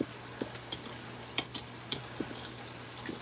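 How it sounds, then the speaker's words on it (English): Potatoes and peppers are stirred in a frying pan at a home breakfast stove, giving scattered soft scrapes and clinks over a low steady sizzle, close and fairly quiet. "we want to stir that in there"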